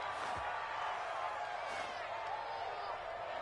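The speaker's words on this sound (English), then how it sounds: "this crowd does not like that call" A stadium crowd in Madden 2021 reacting to a penalty call in a football game, a steady dense roar of voices with faint cheers and whoops, distant and continuous.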